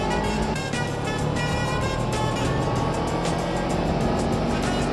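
Engine of a 2017 Suzuki GSX250R motorcycle being ridden through a run of blind corners on a winding road, a steady loud drone with shifting pitch and constant wind rush throughout.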